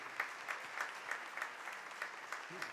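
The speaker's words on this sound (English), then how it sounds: "Clap for him." An audience claps steadily to honor Mr. Javier Law at a church memorial gathering, a dense, even applause sustained throughout without voices.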